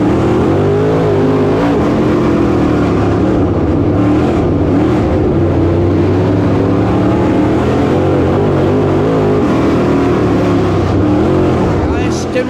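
Dirt track race cars roar and rev continuously at Whynot Motorsports Park, their engines loud and close throughout, while a commentator talks over the racing.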